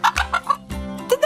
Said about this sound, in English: Did that chicken just lay an egg?